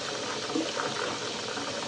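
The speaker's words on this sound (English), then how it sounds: "I like to run cold water over the pressure cooker" Cold water gushes steadily over a metal pressure cooker, a continuous hissing splash with no pauses.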